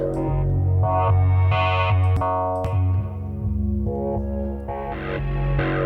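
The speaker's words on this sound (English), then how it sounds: "as a pad sound with some nice articulation, in other words, making it flow" Sustained synthesizer pad with evolving, flowing articulation, layered tones shifting and swelling in movement with chorus-like and echoing effects, loud and continuous with no voices.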